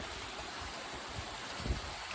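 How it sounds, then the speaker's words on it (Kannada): Rainwater pours through a drainage opening in the stone walls of Chitradurga fort, a steady broadband rush of flowing water with a few soft thumps, heard at moderate distance with no voices. "ಈಗ ಹೋಗ್ತಾ ಇದೆ ಮಳೆ ನೀರು ಅಲ್ಲಿ ಮೇಲಿಂದ ನೀರು ಹರಿತಾ ಇದೆಯಲ್ಲ ಈ ಒಂದು ಕಿಂಡಿಯಲ್ಲಿ ಹೋಗ್ತಾ ಇದೆ"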